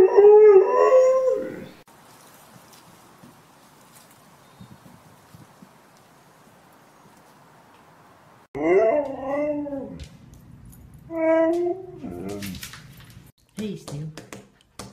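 A husky lets out several drawn, wavering howls, loud and close, with quiet stretches between them, and a person talks among the howls.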